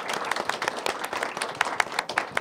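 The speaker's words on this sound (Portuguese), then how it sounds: "Palmas para os nossos amigos." An audience claps together in steady, lively applause, the claps dense and overlapping at moderate volume.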